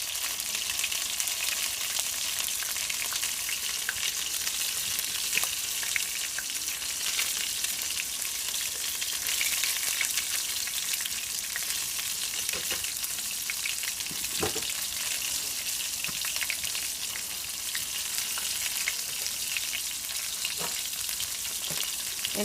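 Battered oyster mushrooms frying in oil make a steady, dense sizzle that holds evenly throughout, with faint pops and crackles scattered through it, close up and with no voices.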